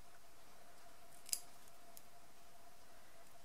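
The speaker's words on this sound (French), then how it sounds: "je vais découper donc des franges régulières à l'aide de ces petits ciseaux" Small scissors snipping fringes into a thin paper strip for quilling, a single faint sharp click in a quiet room with a faint steady hum.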